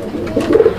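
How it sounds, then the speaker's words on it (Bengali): Fancy pigeons sitting together in a clay nesting pot on a pigeon farm give a brief, close, soft cooing call, a few low throaty pulses. "সুপ্রিয় দর্শক, আমরা এই মুহূর্তে দেখতে পাচ্ছি এখানে দুই পিস কবুতর আসলে একসঙ্গে হাড়িতে বসে আছে।"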